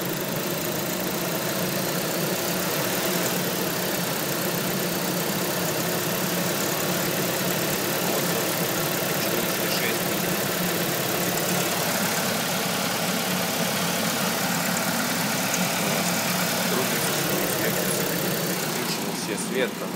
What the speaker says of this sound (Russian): Ты нажми на газ, дай 1000 оборотов.